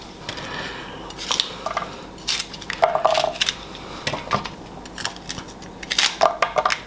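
A knife slicing okra in two on a cutting board while an okra-based coconut curry chickpea dish is prepared, giving a run of close, crisp cuts and clicks with scattered knocks of the blade against the board.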